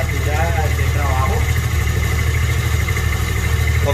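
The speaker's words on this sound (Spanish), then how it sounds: "Ya la motocicleta está caliente, el motor ya está a temperatura de trabajo." A warmed-up motorcycle engine idles with a steady low rumble while someone talks over it throughout.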